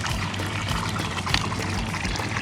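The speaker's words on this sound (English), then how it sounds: "they'll put their little pans in the water, fill it full there, and then wash the stuff out" Water pours and splashes steadily through gem-sifting pans at a campground mining station, a continuous close rushing trickle with no pauses.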